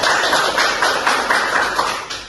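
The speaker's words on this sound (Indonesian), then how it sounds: "beri tepuk tangan untuk Maria" Students applauding together in a classroom, a loud, dense burst of clapping from a group close by, steady for a couple of seconds before tapering slightly.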